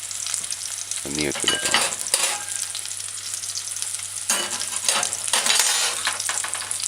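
Thyme, chocha and sweet potato stir-frying in a pan, a loud steady sizzle with bursts of scraping and tossing from a spoon, a few words spoken near the end.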